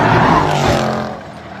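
A race car collides with another car during a race, a loud burst of engine noise and skidding tires that fades quickly after the impact.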